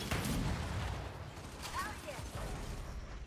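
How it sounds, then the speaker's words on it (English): Gunfire in a ranked Control match of the video game Gears 5: a rapid fusillade of shots and bursts crackles loudly throughout, with brief mechanical clicks and a few high whines mixed in. "Why are you shooting me?"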